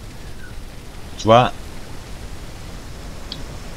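Rain falling in the video game Eden Island, a steady soft hiss of patter throughout, briefly interrupted by someone speaking in German.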